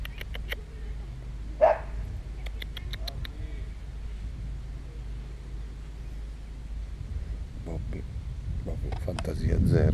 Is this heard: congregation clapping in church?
no